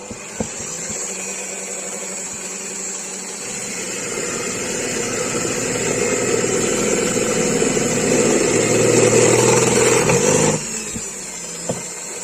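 A steady lathe whine and grinding hum build slightly in intensity as a drill bores into metal, then cut off sharply, leaving a quiet tail with faint clicks.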